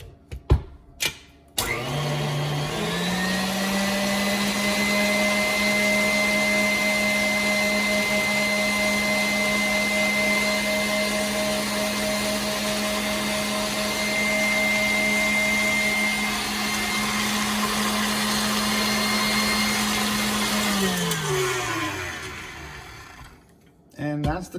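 An electric mixer beating cream cheese pie filling for caramel pecan cheesecake pie spins up with a click, holds a loud, steady whirring whine for about twenty seconds, then winds down and stops.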